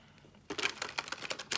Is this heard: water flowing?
no